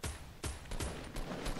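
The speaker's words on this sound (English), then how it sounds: "I keep getting shot" Gunfire in the Fortnite video game, a short burst of several sharp shots in quick succession, loud and close, with no talk.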